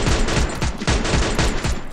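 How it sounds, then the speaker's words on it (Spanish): Rapid video game gunfire, a dense burst of sharp, loud shots in quick succession filling the whole stretch without pause. "Apunta y dispara, acuérdate, apunta y dispara."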